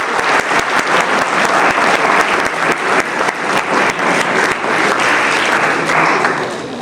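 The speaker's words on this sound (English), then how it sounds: "So please, a round of applause for all the others." Loud, sustained applause fills a school closing ceremony hall as a large audience claps continuously and evenly for nearly seven seconds.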